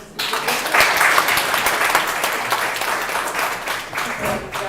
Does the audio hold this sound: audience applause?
yes